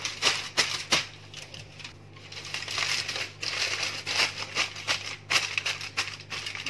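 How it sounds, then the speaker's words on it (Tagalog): Aluminium foil is crinkled and pressed closed over milkfish with onion and tomato in a baking dish, a steady run of close crackling and rustling with a low hum underneath. "I-close natin yung foil."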